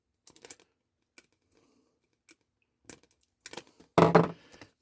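A Quickdraw utility knife cutting through material in several short, sharp scraping strokes, sparse at first and ending in a louder, longer cut, close and without talk.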